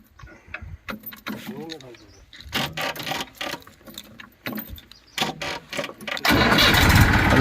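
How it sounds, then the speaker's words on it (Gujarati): After several seconds of talking and clunks, a Massey Ferguson 241 tractor engine cranks and catches, settling into a loud, steady diesel rumble at the end. "હવે હું તમને ટ્રેક્ટર ચાલુ કરીને બતાવું"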